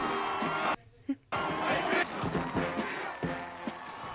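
Stadium crowd in Remember the Titans cheering and roaring at a packed high school football game, loud and sustained with a brief cut to near silence, voices talking over it.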